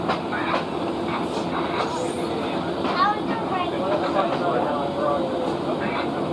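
An interurban trolley rolls along rails at a museum, a constant low rumble and rattle of the car with faint clicks and squeals, while people talk over the running noise.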